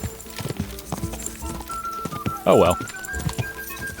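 Horse hooves clip-clop in a quick, rhythmic gallop in the medieval video game Kingdom Come: Deliverance 2, running under a man's brief speech and a short whinny-like burst.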